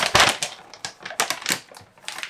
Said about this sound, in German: Noch ein bisschen Trockenfutter zu